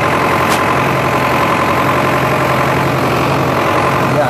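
A tractor engine runs at a steady idle, a continuous loud low rumble with an even drone and no break across the whole stretch, heard alone without speech.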